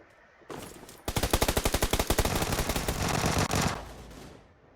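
Rapid automatic gunfire in the battle game PUBG, a dense burst of evenly spaced shots lasting a few seconds, loud and close, then trailing off with no talk.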